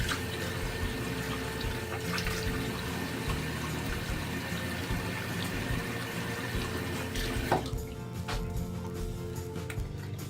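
Water runs steadily from a tap at close range while face wash is rinsed off, a continuous hiss with a small splash near the end and no talking.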